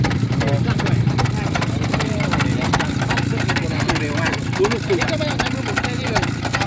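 A hundred-year-old two-stroke engine runs at speed with a rapid, steady knocking beat close by, while people talk over it.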